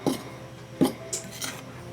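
Flour, table salt and baking powder are stirred together in a bowl, giving two distinct clinks of a utensil against the bowl followed by softer scraping taps, close and fairly quiet, with no talking.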